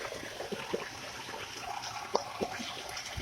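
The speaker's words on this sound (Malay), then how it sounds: "Inilah dia airnya." Water flows steadily into place with a continuous rushing wash and a few soft splashes and trickles, close by and moderately quiet.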